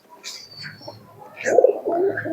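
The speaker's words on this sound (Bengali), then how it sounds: "কত সুন্দর কবুতর দেখুন" Pigeons at a pigeon seller's setup cooing close by, a few soft throaty coos rising over light background chatter and rustling.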